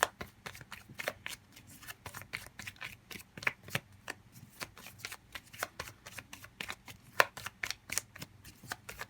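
Tarot cards riffled and shuffled by hand in rapid, repeated bursts of crisp flutters, close and clear, with no talking.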